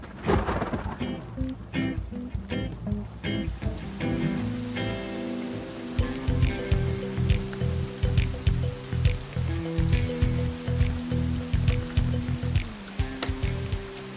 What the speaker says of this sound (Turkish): Yağmur geliyor.